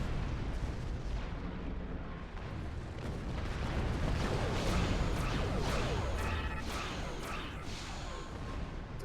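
Starship weapons firing from an old Romulan warbird in Star Trek Online, a steady loud roaring barrage with repeated bursts and booming pulses building in the middle.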